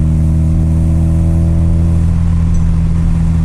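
Opel Kadett engine running at high revs, a steady loud droning hum with strong low harmonics, close and continuous without speech.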